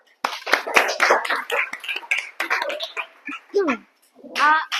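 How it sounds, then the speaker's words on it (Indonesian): A classroom group claps together for everyone after a tongue-twister exercise, a dense burst of close hand claps that thins out, mixed with children's voices and excited chatter toward the end. "aplaus untuk semuanya"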